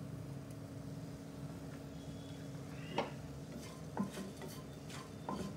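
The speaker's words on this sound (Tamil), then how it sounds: "இந்த வெந்தயம் வந்து கருகாமல் நம்ம வறுக்கணும்" Fenugreek seeds dry-roasting in a pan for sambar make a soft steady rustle, broken by a few distinct scraping clinks of the stirring spoon against the metal.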